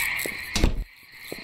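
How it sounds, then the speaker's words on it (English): A frog croaks in the Loveland Horror Frog video game, with a few short soft calls followed by one loud, close burst before the sound drops away. "Oh no, that was a frog."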